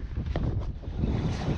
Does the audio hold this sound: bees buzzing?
no